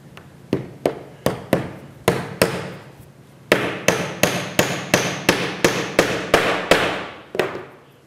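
A metal pin being hammered into the corner of a wooden canvas stretcher bar, landing as a long run of sharp, evenly spaced strikes, about sixteen in all with a short pause partway through, close and loud with no voices.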